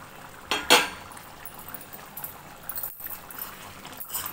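A metal lid is lifted off a cooking pot of vegetables with drumstick for sambar rice, giving a bright clanking clink up close, followed by quieter faint metallic taps and soft rustling.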